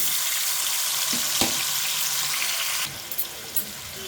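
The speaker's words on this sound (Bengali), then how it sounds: "এখন এই পনিরগুলো আমি ভেজে নেব।" Pieces of paneer coated in salt and turmeric fry in hot oil, a loud, steady hiss and sizzle close by that drops off sharply near the end, leaving a few soft clinks and spatters.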